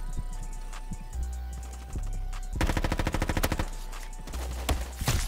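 Rapid SMG bursts ring out in the Roblox shooter Frontlines, a dense automatic stutter of shots fired in quick volleys over game ambience, loud and close.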